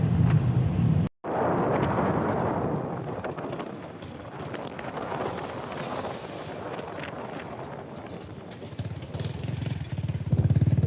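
A motorcycle engine rumbles steadily nearby, briefly cutting out near the start, then running on with a rough, throbbing idle.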